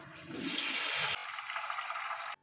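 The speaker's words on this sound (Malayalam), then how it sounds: "ഇനി തിളപ്പിച്ച് വെച്ചിരിക്കുന്ന ഉപ്പും വെള്ളവും കൂടി ഇതിലേക്ക് ഒഴിച്ചു കൊടുക്കുവാണേ" Boiled salt water pours steadily into a pickle of ambazhanga (hog plum) at a Kerala home kitchen, a soft splashing gush that shifts tone midway and then stops abruptly.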